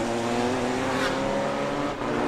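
A Honda GT race car accelerates hard on a racing circuit, its engine a loud, steady roar sustained throughout without a break.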